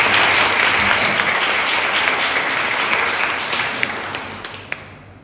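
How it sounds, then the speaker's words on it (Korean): A church congregation at a Sunday service claps to welcome a returning missionary family. The dense, steady applause fills the room and slowly tapers off toward the end, with no talking over it. "우리 박수로 환영할까요?"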